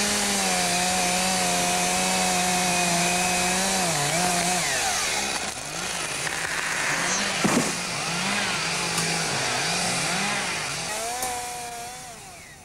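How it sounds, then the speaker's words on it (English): A chainsaw drones steadily at close range while cutting down trees in Blackbeck Woods, a coppiced woodland in England's Lake District. Its pitch dips and rises in a rhythmic series of load changes as it bites into the wood. "here I am cutting down trees"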